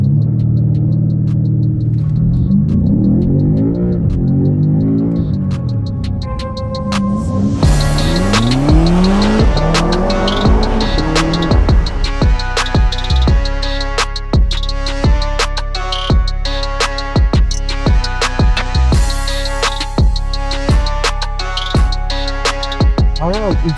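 BMW M5 CS accelerating hard, the engine winding up through the gears in rising surges with sharp shifts between them, loud and close from inside the car.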